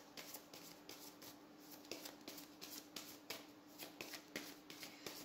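Tarot cards are shuffled by hand in a quick, repeated riffling rhythm of soft rapid flutters, close and fairly quiet, with no talking.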